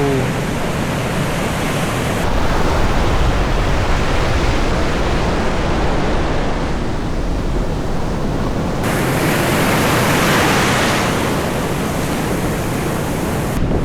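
Rushing ocean surf surges into the Tibu tidal pool in Casiguran, churning continuously, a broad hiss of water that swells louder in waves, close and enveloping with no voices.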